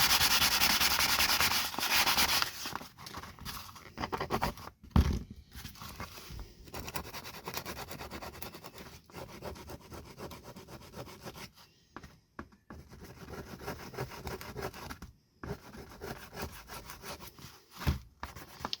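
Sandpaper rubbed by hand over the plastic drawer handle of a Preston Absolute 30 fishing box, a steady close scratching rasp with a dense burst at the start, then continuing irregular strokes with brief pauses.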